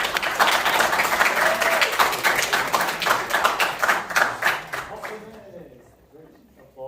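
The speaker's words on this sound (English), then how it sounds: "Great applause." Brisk clapping from an audience at a certamen quiz competition, loud and rhythmic at first, then thinning and fading out toward the end as a voice begins to speak.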